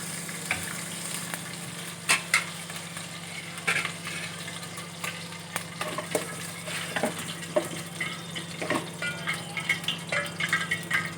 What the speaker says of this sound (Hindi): इसको थोड़ा सा हम ना घी में फ्राई करेंगे इलायचियों को